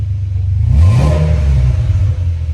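A 2006 Ford Territory Ghia's engine revs up loudly and close by while driving, its low rumble rising in pitch and then settling into a steady drone.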